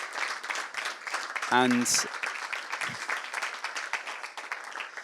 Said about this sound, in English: I'd like to say sort of round of applause to all the contestants